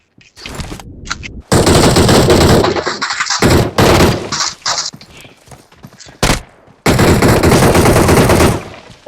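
Bursts of rapid automatic gunfire in the video game PUBG Mobile, several loud, close volleys broken by brief silences, with a few single shots between the longer strings.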